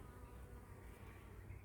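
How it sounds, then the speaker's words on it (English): Bees, not a native Australian species, buzz around old flowers in Koondrook cemetery, a steady close-up drone holding level throughout with no voices. "I don't want to get too close because there is bees."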